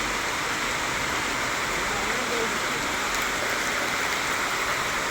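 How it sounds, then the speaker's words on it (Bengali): Heavy rain pours down steadily at Natun Hat, Mangalkot, a dense, constant hiss of water hitting surfaces with no pauses, close and loud throughout. "এখন নতুন হাটে প্রচণ্ড হারে বৃষ্টি হচ্ছে।"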